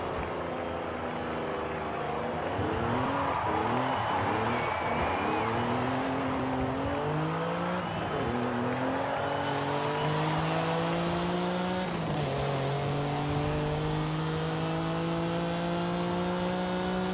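Honda NSX in Forza Horizon 5 cruising on a highway, engine droning loud and steady with rising and falling pitch as it shifts through gears, a brief tire squeal near the middle.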